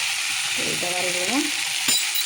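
Fenugreek greens frying in a pan, a steady loud sizzle with scraping strokes of a utensil stirring through, and a sharp clink near the end.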